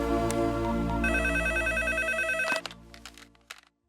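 Telephone ringing in a home, a repeating electronic ringtone pattern that plays loudly and then cuts off abruptly, followed by brief handling clatter.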